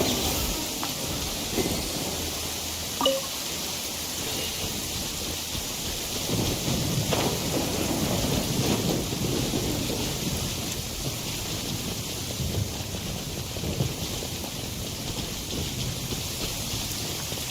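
A steady downpour of rain with rumbling thunder in the video game Genshin Impact, heard as constant hiss with a few distant rolls and cracks, and no voices.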